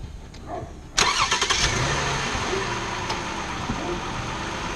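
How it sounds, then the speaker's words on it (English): A car engine cranks with a healthy battery and starts abruptly near the one-second mark, then settles into a steady idle that continues to the end, heard close and fairly loud. "we're going to see what the difference is when I start this vehicle with a good battery"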